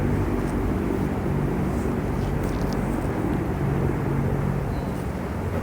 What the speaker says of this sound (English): let's let the helicopter pass